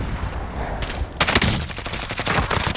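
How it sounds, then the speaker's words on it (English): Rapid gunfire from a multiplayer shooter video game, dense automatic bursts crackling close and loud, with the volume jumping sharply partway through as the shots intensify. "what the fuck am I getting shot from?"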